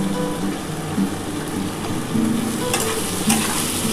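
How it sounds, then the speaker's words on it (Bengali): Potato pieces sizzling in hot oil with salt and turmeric in a pan, a dense continuous fry with a low hum underneath and a few clinks of a stirring spoon near the end. "এবার এটা লাল লাল করে একটুখানি ভাজবো"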